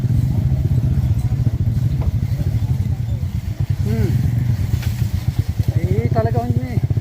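A motorcycle engine chugs steadily at low revs, loud and close, with faint voices and a few brief higher whines mixed in.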